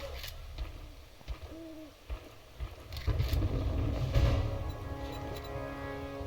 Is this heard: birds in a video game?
yes